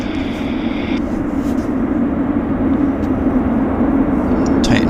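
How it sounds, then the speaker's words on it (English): A WestJet airliner inbound from Calgary taxis in at Vancouver airport, its steady loud jet engine roar continuous and close, with a brief high whine at the start. "Let's go get the WestJet inbound from Cowtown."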